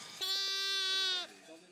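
A single long, clear bleat from a goat or sheep grazing on steep terrain, loud and near, with a fainter answering call just after.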